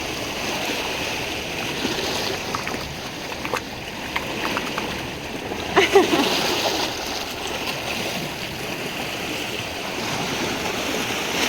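Seawater splashing at a beach on a swimming day, a steady broadband wash with a brief louder splash burst midway, distant voices faintly audible behind.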